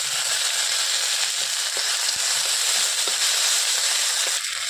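Spices and ginger paste fry hard in a hot wok for a red amaranth stem chorchori, giving a loud, dense, unbroken sizzle with faint crackles and no voices.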